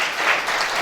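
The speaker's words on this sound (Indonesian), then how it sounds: "Yang setuju tepuk tangan." Applause from a church congregation during a sermon: dense, steady clapping from many hands that fills the whole moment at an even level, with no voices over it.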